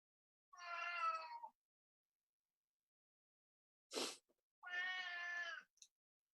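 Two drawn-out cat meows a few seconds apart, close and clear against silence, with a short sharp noise between them and a tiny chirp at the end.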